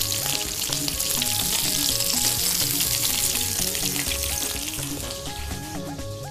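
Beef browns in a hot pan with a loud, dense sizzle throughout, under steady background music that fades slightly toward the end; no voices.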